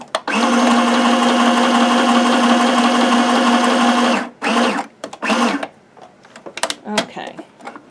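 A sewing machine runs a small zigzag stitch across patchwork fabric in one steady, buzzing four-second burst, then stops, followed by scattered handling clicks and brief speech.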